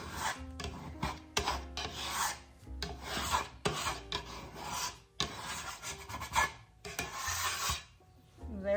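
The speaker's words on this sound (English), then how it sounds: "So I just take my scraper and scrape it up." A dough scraper rasps across a kitchen counter, scraping up stuck bread dough in a series of rough, uneven strokes with brief pauses, close and fairly quiet.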